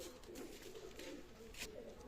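Soft, low pigeon coos repeat in a faint, muffled background with no other prominent sounds.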